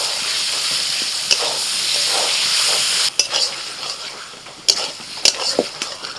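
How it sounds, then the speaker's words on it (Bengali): Bombay duck fish dropped into a hot pan of spices with dried red chilli, cumin paste and turmeric, giving a loud steady sizzle and hiss, broken by stirring scrapes and clicks near the end. "এবার এই লোটে মাছ দিয়ে দিচ্ছি।"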